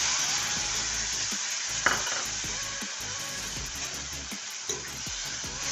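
Mixed masala sizzles over fried onions for chicken tikka masala, keeping a steady bright frying hiss throughout, with soft scraping stirs and a couple of sharper utensil knocks against the pan.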